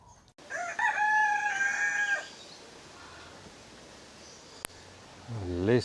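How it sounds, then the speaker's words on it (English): White peafowl gives a loud, harsh, drawn-out call lasting about two seconds, followed by quieter background ambience at a bird park and a brief click. "White peafowl."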